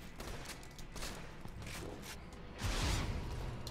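Borderlands 2 combat with rapid bursts of gunfire and a heavier explosive blast near the end, fairly faint and without talk.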